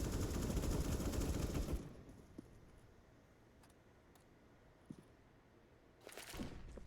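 Rapid gunfire in CS:GO on the Vertigo map, a loud burst of automatic shots for about two seconds, then quiet with a few isolated clicks before another burst of fire at the end.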